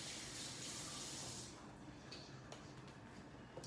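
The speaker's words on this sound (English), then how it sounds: "Let me make sure I wash my knife." A kitchen tap pours steady running water over a knife for about a second and a half, a close, even hiss that then cuts off, leaving faint taps and handling noise.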